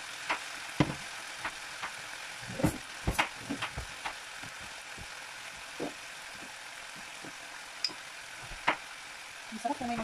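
Ingredients for pinakbet sauté and brown in a pan, a quiet steady sizzle broken by scattered clicks and scrapes of stirring, faint and close.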